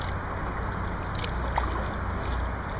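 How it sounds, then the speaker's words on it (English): A sea kayak is paddled out from the Charles River locks into Boston Harbor, giving a steady close wash of water and low rumble, with faint splashy strokes. "And I'm paddling out."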